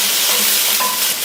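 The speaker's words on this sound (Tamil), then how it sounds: "இப்ப எல்லாத்தையும் லைட்டா வதக்கி விட்டா போதும்" Onion and curry leaves sauté in a pan for an idli-batter snack, giving a loud, dense hissing sizzle close up for a brief moment.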